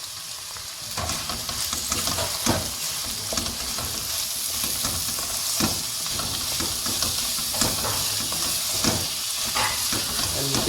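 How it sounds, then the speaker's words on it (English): Onions hitting okra (bhendi) frying in a pan, a sustained crackling sizzle broken by repeated stirring scrapes and spatula knocks, close and steady with no talk. "And now I'll add the onions."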